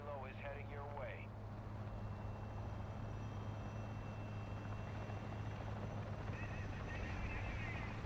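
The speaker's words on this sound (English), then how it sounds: "Enemy attack helo is heading your way." Steady rotor drone of an enemy attack helicopter in the video game DMZ, loud and constant throughout, with a brief burst of other game sounds near the start and faint tonal chatter later.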